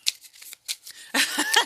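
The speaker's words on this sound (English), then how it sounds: "So now, let me do a little shuffle action." A deck of cards being shuffled during a Hero Realms tabletop card game: several light riffles and taps, then a denser, louder run of rapid card flutters, close and unaccompanied by speech.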